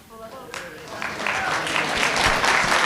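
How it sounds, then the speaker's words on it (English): Applause swells at a special town meeting, starting thin and building into a dense, steady patter of many hands over the last two seconds, with a voice speaking briefly over the start. "No applause, please."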